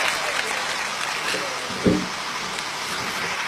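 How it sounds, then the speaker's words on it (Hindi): Audience applause at a Hindi poetry recital, a steady wash of clapping throughout with one brief louder knock partway. "लगातार तालियां बजती रहनी चाहिए"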